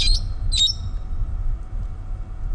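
Two sharp, high-pitched parrot squawks in quick succession near the start, followed by a steady low rumble of background noise.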